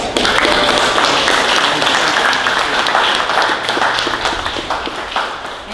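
An audience applauds the fire department at a Canyon Lake POA board meeting, with loud, dense clapping that fills the room and then slowly thins.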